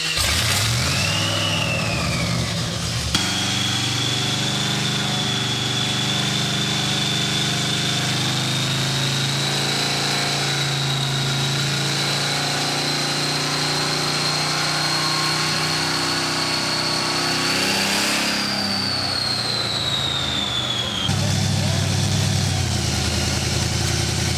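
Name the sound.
supercharged LSX C10 truck engine revving on dyno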